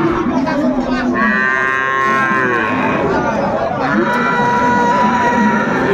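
A Sahiwal bull lows loudly in long drawn-out moos amid the busy chatter of a crowd at a cattle market in Dinajpur, with voices talking throughout.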